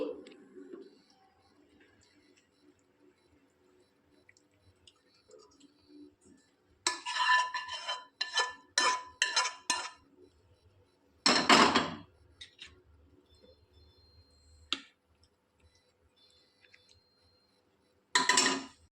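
Cooked potol chingri, pointed gourd and prawn curry, is poured into a serving dish: clinks and scrapes of a utensil against the pan come in short bursts between near-silent pauses.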